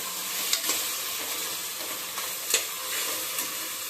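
Spice paste and tomatoes sizzle steadily in a pan while being stirred, with occasional soft scrapes and taps of the spoon, no voices.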